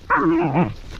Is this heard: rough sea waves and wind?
no